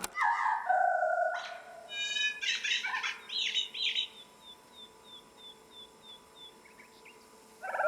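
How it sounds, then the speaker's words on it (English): A bird sings in a video game, a sequence of bright chirps and trills followed by a run of evenly spaced, falling whistled notes, fairly quiet with no talking. "This bird sounds like a genius."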